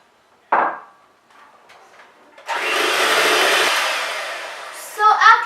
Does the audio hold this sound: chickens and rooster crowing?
no